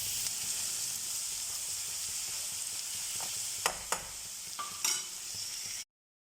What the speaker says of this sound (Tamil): வெறும் மஞ்சள் தூள் போட்டு எண்ணெயில் வதக்கின்னு இருக்கிறோம்